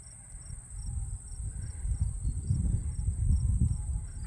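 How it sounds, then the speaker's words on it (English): Crickets and grasshoppers chirp in steady, continuous high trills on a hazy, very hot summer day beside drought-stricken soybean fields, with a low rumble underneath and no voices. "One of the sounds I associate with the heat of summer are crickets and grasshoppers."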